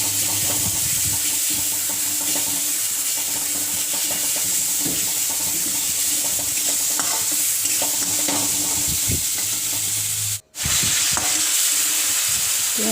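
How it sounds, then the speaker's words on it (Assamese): Leafy greens (morolia xak) fry in a pan as a little water goes in, giving a steady loud sizzle and hiss with scraping stirs throughout and a brief dropout near the end. "এতিয়া মই ইয়াতে অকণমান পানী দি দিম"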